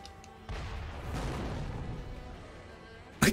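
An explosion in the video game Sekiro with the Long May the Shadows Reflect mod: a sudden deep rumbling blast that rolls on for a few seconds, then ends in a sharp burst.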